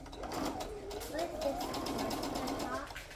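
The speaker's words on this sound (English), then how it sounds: "I'll sew right here a normal stitch at a 1/4 inch." A sewing machine runs a normal stitch at a quarter-inch seam across a Santa stocking. A close, steady, rapid mechanical whir carries on for a few seconds while someone talks over it.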